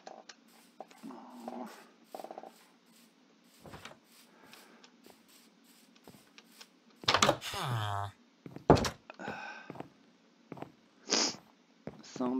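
A cat in modded Minecraft gives a few short meows, scattered among clicks, thumps and a stretch of talking.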